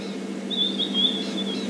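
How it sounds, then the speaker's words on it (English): A clear, high whistled white-browed scrub robin call echoing through a drainage line, rising and wavering over a second, standing alone against a faint steady background hum. "that lovely call you can hear echoing through the drainage line there is a white-browed scrub robin"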